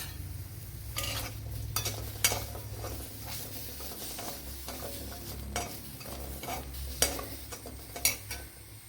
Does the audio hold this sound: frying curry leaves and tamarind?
yes